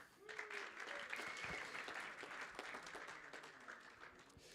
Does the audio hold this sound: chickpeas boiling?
no